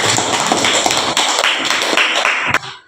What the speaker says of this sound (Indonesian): oke, tepuk tangan untuk Jija.